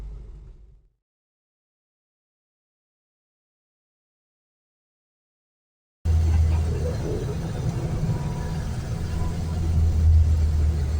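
Interior engine drone of a Renault 4L at 75,000 km driven on the road: near-silence for the first six seconds, then a steady, loud low rumble cuts in and holds.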